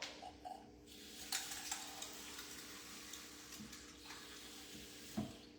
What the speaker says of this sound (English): You start off 1 cup of ice cold water.